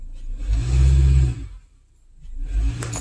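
A 2014 Honda Accord with a misfire runs while warming up, its engine rumbling loudly, easing off into a quieter lull, then swelling again, close and with no talk.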